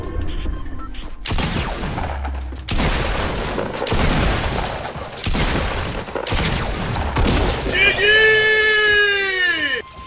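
Shotgun blasts fired in pairs in the Fortnite battle royale game, a loud double-pump sequence of sharp bursts repeating across the clip, with other game effects and a rising whine near the end.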